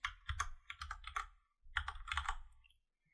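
A computer keyboard types out a virtual machine name: two quick bursts of close, crisp key clicks separated by a short pause, heard alone without talk.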